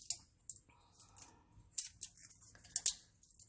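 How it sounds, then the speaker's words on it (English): Scissors snip pieces off acorns for a fall craft, a series of sharp, close, quiet cuts and clicks in an irregular rhythm with brief pauses between them. "we're going to keep snipping off pieces or breaking them off if you can"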